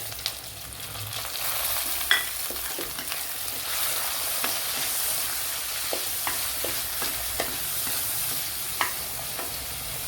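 Tamarind and a big tomato go into a frying curry base in a pan for a kingfish curry, giving a continuous sizzle with sharp spoon scrapes and clicks at irregular intervals and no voices.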